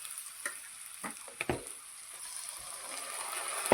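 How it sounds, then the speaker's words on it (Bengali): Ginger and garlic go into a pan of frying onions, giving a soft steady sizzle with a few brief stirring scrapes and small bursts near the start. "এবার আদা রসুনটা দিয়ে দেবো।"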